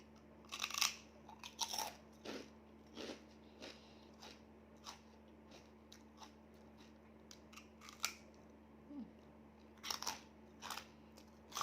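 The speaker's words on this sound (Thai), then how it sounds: "แคบหมู ป้าเนี่ยนะมัน โคตรกรอบอะ" Crunchy pork rinds being chewed close up, with sharp crackling bites arriving in irregular bursts between quiet pauses over a low steady hum, and no voices.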